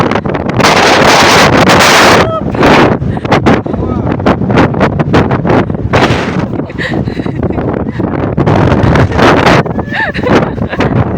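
Loud, roaring, cold wind at Mt. Fuji, Japan, buffets the microphone in heavy gusts, with rushing noise throughout and no clear voices.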